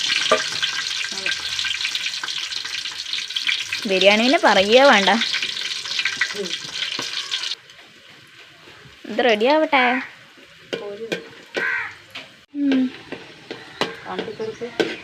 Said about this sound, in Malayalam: എണ്ണ ചൂടായി അണ്ടിപ്പരിപ്പ് ആദ്യം വറുത്തെടുക്കാം